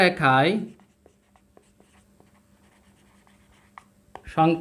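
Pen or pencil scratches out a handwritten explanation to a math problem in a sixth-grade class on whole numbers. Soft, irregular strokes and taps sound close and quiet between spoken words at the start and end.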